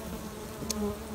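Honey bees buzz around a queen bee inside a hive. The drone is soft and brief, with one sharper high-pitched flicker near the middle.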